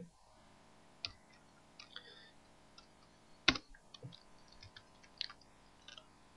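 A computer keyboard is typed on in irregular bursts of light clicks with one sharper key strike partway through, close and fairly quiet over a steady low hum, with no talking.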